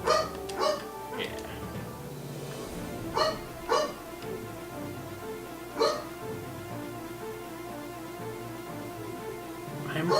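A dog gives several short yips and barks in scattered bursts, under people talking, with game sound in the background.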